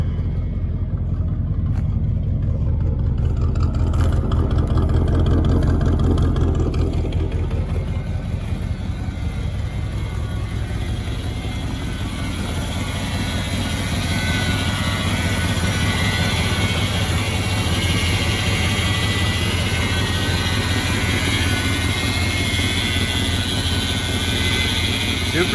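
A 1979 Ford F250 4x4 truck with dual exhaust idles steadily with a deep, continuous engine rumble, close and loud throughout, with a brief rise in intensity near the start.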